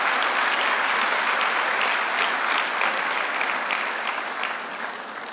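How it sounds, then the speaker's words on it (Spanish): A church congregation applauds warmly, with dense, sustained clapping that stays loud and then eases off slightly toward the end, with no voices standing out. "Démosle un fuerte aplauso al Señor por la vida de cada uno de ellos"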